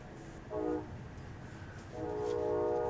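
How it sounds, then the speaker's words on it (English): A train horn sounds twice in the distance, a short blast then a longer sustained one, over a low rumbling background. "I apologize if you guys can hear the train in the background"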